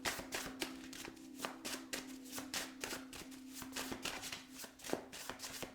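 Rapid, crisp riffling of a deck of tarot cards being shuffled close up, with repeated quick bursts of flapping and tapping.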